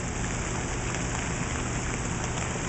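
Steady rain falls on a garden, a dense, even hiss of drops pattering on leaves and ground close by, continuous with no voices.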